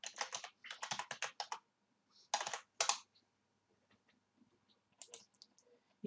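Quick bursts of typing on a computer keyboard as a search is entered in Microsoft OneNote, clustered keystroke clicks with short pauses between, fairly close and clear with no talking.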